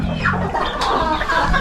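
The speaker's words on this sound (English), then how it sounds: "But let's feed these chicks." Chicks on a Tennessee homestead cluck and peep while being fed, with a steady stream of soft chirps close by.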